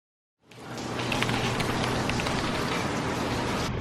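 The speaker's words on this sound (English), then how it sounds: "It's raining." A steady hiss of rain starts abruptly and continues evenly, with faint patters of drops landing on a surface nearby.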